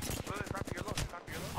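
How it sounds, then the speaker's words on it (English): Rapid gunfire in Apex Legends, a fast burst of about a dozen sharp close shots in steady rhythm, then a brief gap before more noise. "I'm shooting at this guy."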